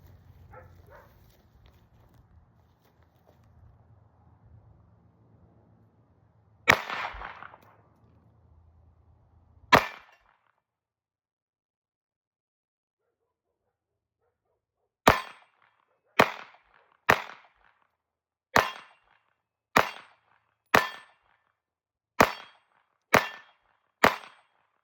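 A handgun, the owner's first purchase and carry gun, firing at a range: two sharp cracks, a long pause, then a steady string of about nine evenly spaced shots with quiet between them.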